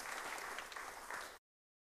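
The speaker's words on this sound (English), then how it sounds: "Give him a round of applause." A short burst of full, dense applause from a church congregation, loud and even for over a second before cutting off abruptly into silence.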